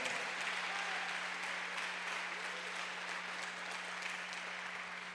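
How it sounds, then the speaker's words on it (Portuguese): Steady applause from a church congregation during an online service, continuous dense clapping at moderate volume over a constant low electrical hum, with no talking. "pode aplaudir o Senhor Jesus"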